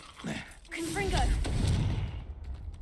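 In Hogwarts Legacy, a Confringo blasting spell is cast, giving a short burst of crackling, explosive impact mixed with a voice in the middle of the game's action.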